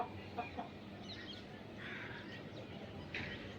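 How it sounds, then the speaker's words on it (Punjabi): Hens in a yard under heavy storm clouds give a few faint, scattered clucks and short calls over a low, steady background rumble, somewhat distant and with no talk. "ਮੁਰਗੀਆਂ ਆਪਣੀਆਂ ਬਾਗ ਦੇਣ ਲੱਪੀਆਂ"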